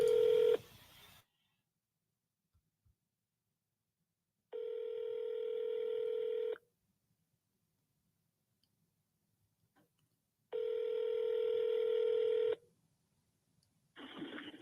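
An outgoing phone call dials out with a short burst of touch-tone beeps, then two long, steady ringback tones separated by silence, clear and close with no voices.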